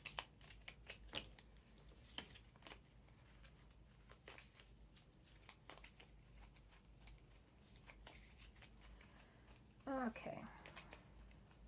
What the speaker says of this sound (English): So, shuffle up.